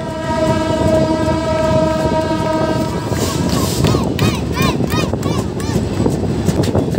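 The Modhumoti Express runs on the Dhaka–Rajshahi line, its loud sustained horn blaring at first, then wheels and carriages rattle and clatter nearby with squealing metallic tones.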